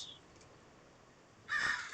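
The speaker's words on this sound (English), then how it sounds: "a little crow" A crow caws once in the Minecraft video game, a single harsh, raspy call rising after a quiet stretch, fairly close and alone.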